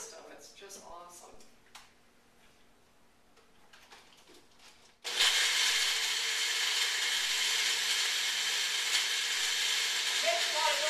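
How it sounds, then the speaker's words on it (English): A bullet-style personal blender whirs loudly as it blends a shake, starting abruptly partway through and running steadily to the end after a quieter stretch with light clicking and handling sounds. "We call it a bullet blender"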